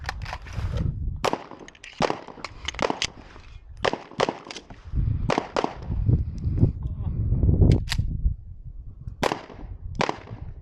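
Pistol shots at a shooting range during a reload and recoil-control drill, sharp cracks in short bursts with pauses between, loud and close, with people talking and the clatter of handling between strings.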